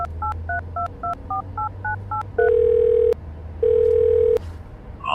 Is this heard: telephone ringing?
yes